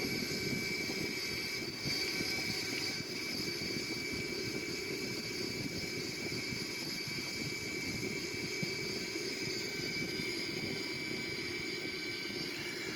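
A steady engine drone from an Airbus A340-313X in a flight simulator game hums continuously as the airliner flies low over the runway, with no talk.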